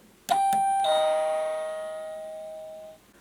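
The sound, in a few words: toy doorbell ringing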